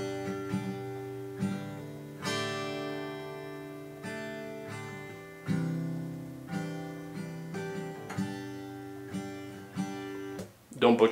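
Acoustic guitar playing the first verse of a song, ringing chords strummed at a slow, even pace, each chord sustaining and fading before the next, close and alone.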